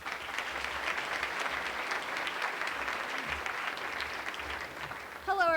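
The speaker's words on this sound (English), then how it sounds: "Let's give her a round of applause." Sustained applause from an audience at a college general assembly, a dense steady wash of many clapping hands lasting several seconds before a voice cuts in at the end.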